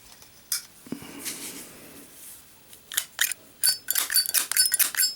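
A Zippo Joker lighter on a tumbled case with a steel insert is handled up close, with sharp metallic clicks and scrapes in bursts, quiet rustling, and a rapid cluster of metal clinks near the end.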